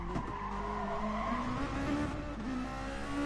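A DTM race car in GT Sport spins out at the Red Bull Ring. Its engine whines while the tires skid and scrub in a short, close burst.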